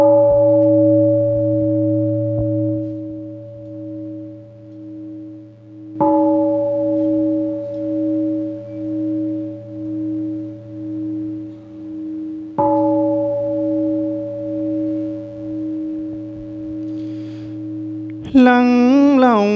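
A Buddhist temple bell is invited at a Vu Lan ceremony, struck three times at even intervals. Each strike is clear and resonant, with a long, slowly fading hum.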